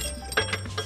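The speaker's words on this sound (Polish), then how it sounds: "A już kurwiłem, że ktoś dzwoni, a ja łapę w smarach." A phone rings in a workshop while hands are covered in grease, giving a short bright electronic ringing burst over low background hum, with no talking.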